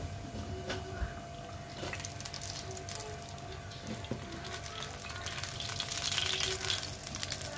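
Potato patties frying in hot oil in a pan, a faint, steady crackling sizzle with scattered pops throughout.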